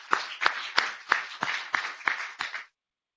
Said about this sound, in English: I'd like to ask for a round of applause